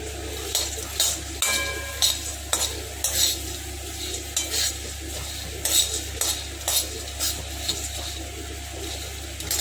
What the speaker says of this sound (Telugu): పుచ్చగింజలంతా వేగినాయండి, కలర్ చేంజ్ అయింది.